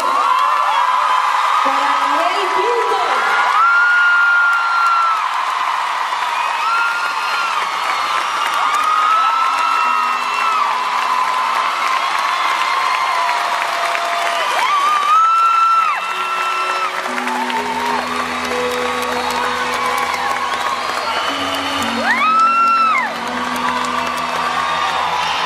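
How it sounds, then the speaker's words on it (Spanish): A large festival concert audience cheers, whoops and applauds continuously at Festival Villa María, loud and sustained with shouts rising above the roar and a voice over a PA in places. "os pido el aplauso más grande y más sincero"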